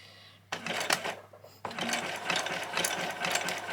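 A sewing machine stitching a Christmas dress, starting abruptly into a quick rattling whir, pausing briefly, then running on steadily and close.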